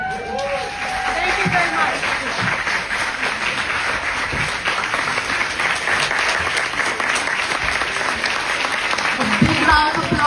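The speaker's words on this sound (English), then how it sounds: "Round of applause for Laila El-Haddad." Audience at the Second Global Artivism Convention applauds Laila El-Haddad, a full, sustained roar of many hands clapping at an even level throughout, with faint voices underneath.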